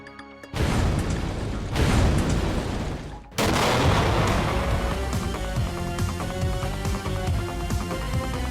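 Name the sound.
imitated bomb explosion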